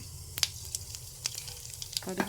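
Cinnamon, fennel and mustard seeds sizzle in hot oil, a soft continuous frying hiss with scattered small crackles and pops, near and fairly quiet, with a brief scrape near the end.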